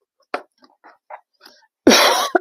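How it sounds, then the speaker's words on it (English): A single loud, harsh cough bursts out near the mic after a few scattered faint sounds, with a brief second catch at the end. "I'm not sure where this cough came from."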